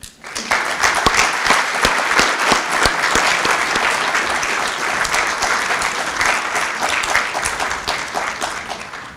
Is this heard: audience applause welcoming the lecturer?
yes